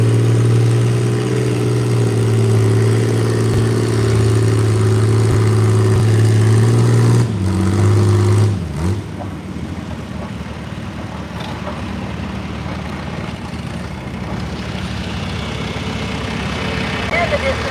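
John Deere tractor at an antique tractor pull, its engine idling loudly and steadily with a low throbbing drone that drops off partway through, after which quieter engine rumble and background noise continue.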